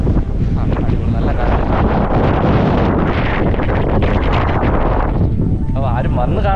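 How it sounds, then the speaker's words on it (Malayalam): Strong wind buffets the microphone atop the hilltop rock of Kaalanpaara near Kuttichal, a loud, continuous roaring gust with a voice faintly audible beneath it. "നല്ല കാറ്റുണ്ട്."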